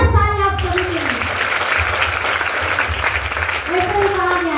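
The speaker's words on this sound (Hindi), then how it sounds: "जबरदस्त ताली आप सभी के लिए" Enthusiastic applause from an audience at a health-products meeting, sustained clapping through the middle, with voices speaking at the start and again near the end.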